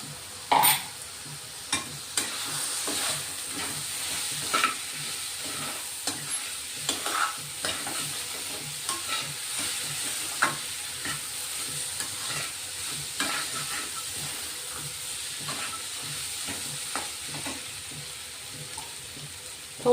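Green peas stirred into a simmering masala for methi bhaji in a pan, with a steady soft sizzle and repeated scraping stirs throughout, plus a few sharper clinks of the spoon against the pan.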